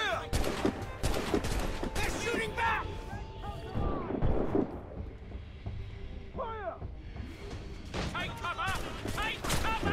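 Rapid bursts of gunfire and booming cannon fire from a naval battle in Assassin's Creed Rogue, with shouted orders and voices mixed in across a dense, continuous firefight.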